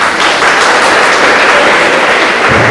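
An audience applauds at a public function, a dense, steady wash of clapping that holds at full strength throughout with no pauses and no voices over it.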